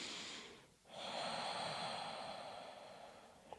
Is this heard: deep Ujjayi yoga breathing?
yes